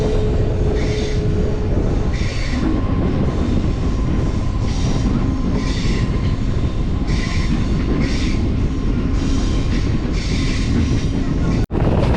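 A local train on the Howrah–Digha line near Panskura rumbles around a curve, loud and close, with a steady roar and a rhythmic clatter of wheels over track joints repeating throughout.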